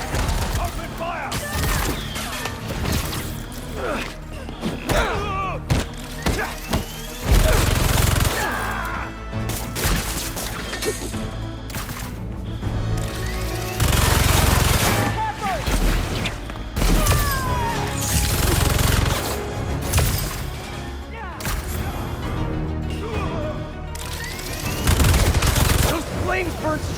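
Dense gunfire bursts and crashes fill a combat scene in the video game Marvel's Spider-Man 2, loud and close with repeated volleys, thuds and booms, and game voices call out intermittently.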